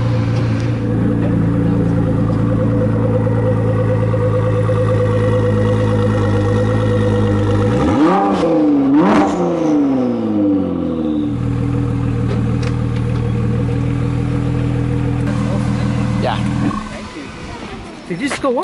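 A Ford GT sports car engine idling loudly, then revving up in a sharp surge and falling back to a steady idle before shutting off.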